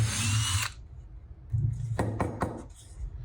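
A power drill with a dull bit bores holes for mounting casters, a loud whirring burst up front followed by quieter separate drilling bursts and knocks.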